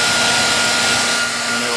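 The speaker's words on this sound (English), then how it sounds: "You really do need a commercial type of actual heat gun that can melt plastic." Steady, loud blowing roar of a commercial heat gun warming the plastic fender of a Saturn Sky Redline or Pontiac Solstice GXP, a constant whine held close with no talk.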